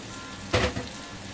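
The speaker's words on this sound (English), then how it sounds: "Now, cook your eggs as whatever you want." Eggs frying in a pan, cooked almost fully through for a country-style breakfast; a short, close sizzling burst rises and fades within a steady low background hiss.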